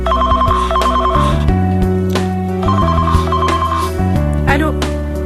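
A telephone rings in repeated trilling bursts, loud and close, over steady background music, with someone speaking in between rings.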